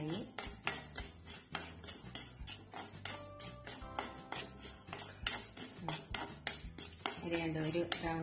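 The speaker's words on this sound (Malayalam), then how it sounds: "നമുക്ക് ഈ അരി ഒന്ന് വറുത്തെടുക്കാം." Rice dry-roasting in a pan while it is stirred: quick metallic scrapes and clinks of a spoon against the pan come in a steady rhythm, fairly quiet and close, with no speech.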